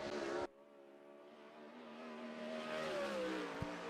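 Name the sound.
410 sprint car engine during a qualifying lap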